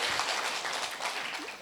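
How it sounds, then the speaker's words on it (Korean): A lecture audience at a psychology talk on anger claps together, a dense continuous patter of many hands at moderate volume filling the whole short stretch. "자 박수 한번 칠까요?"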